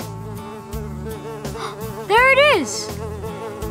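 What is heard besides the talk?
fly buzzing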